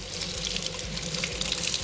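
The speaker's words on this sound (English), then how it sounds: "run them under some running water." Tap water runs steadily from a kitchen faucet over freshly cracked hard-boiled eggs in a sink, a close, continuous splashing hiss with no talking.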